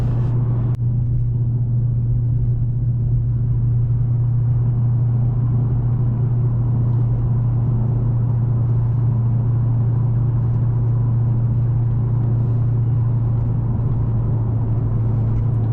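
An HSV VF GTS cruises along a road, its engine holding a loud, steady low drone with constant road rumble for the whole stretch and no voices.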